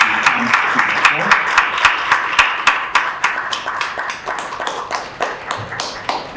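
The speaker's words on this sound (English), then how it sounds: "Can I ask us that we give her a round of applause as she comes to the floor?" Applause breaks out at a workplace bullying and culture summit, with sharp distinct claps in an uneven rhythm that sounds like a smaller group, steady and fairly close throughout.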